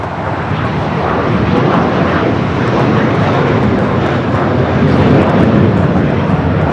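A Singapore Airlines Boeing 777-300ER in Star Alliance livery roars steadily at LAX, a loud, continuous broadband engine rumble that holds nearly constant and swells slightly toward the end.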